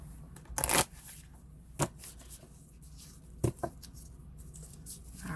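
Crystal and gem oracle cards are shuffled in a few short, soft riffling bursts with quiet pauses between, close by and with no talking.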